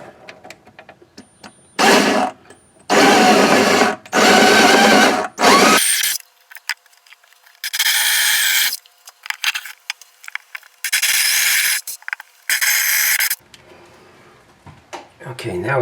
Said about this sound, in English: we're going to drill the bigger holes through